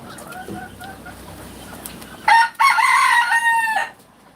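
On a pigeon and chicken farm, a few soft hen clucks come first, then a rooster nearby lets out a loud, drawn-out crow in two bursts before it fades.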